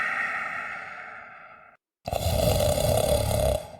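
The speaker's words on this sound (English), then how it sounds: "Should just put that snore music on" Snoring sound effect with long rasping, roaring inhales: one loud drawn-out snore, a short silent gap, then another heavier, louder snore that fades at the end.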